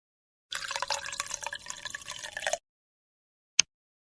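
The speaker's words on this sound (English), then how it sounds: "Then she pours some water into the coffee maker." Water poured into an electric coffee maker's reservoir, a two-second splashing, trickling stream that stops abruptly, followed a second later by a single faint drip or tap, with no talking.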